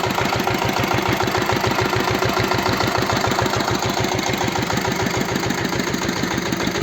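A walk-behind motor tractor engine idles steadily nearby, its rapid, even chugging pulses continuing without a break.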